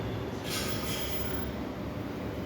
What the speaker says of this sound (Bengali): আমি আছি কাজীপাড়া মেট্রো স্টেশন